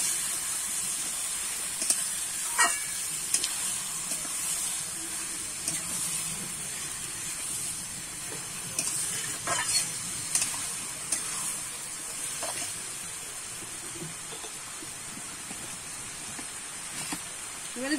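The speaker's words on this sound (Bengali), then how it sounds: "একটু কষিয়ে নেব, কষানো বলতে একটু নেড়ে চেড়ে নেব।" Food being stir-fried in a pan gives a steady, hissing sizzle, with scattered clicks and scrapes of stirring throughout.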